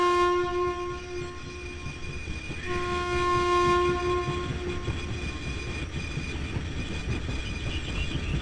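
A video game train rumbles along with a long, loud horn blast that stretches across several seconds, the clatter of wheels continuing underneath.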